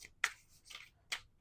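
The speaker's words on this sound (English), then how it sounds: "All right, last shuffle." Tarot cards shuffled by hand up close, three quick papery riffles spaced about half a second apart against a quiet background, no talk.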